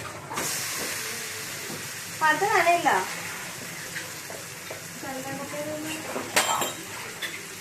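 Onions frying in a pan at home, a soft steady sizzle with occasional clinks of utensils, while someone talks over it.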